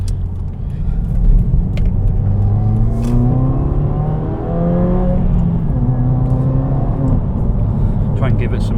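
A 2016 Subaru WRX engine revs up through its range, pitch climbing and dropping in repeated sweeps, heard from inside or close by with steady road noise.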